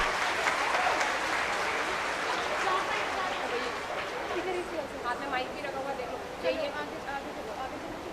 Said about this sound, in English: Please welcome Tarannum with a great round of applause.